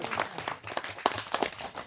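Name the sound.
audience clapping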